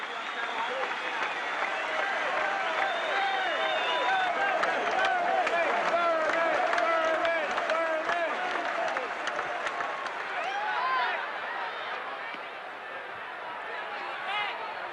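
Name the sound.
standing ovation from a baseball stadium crowd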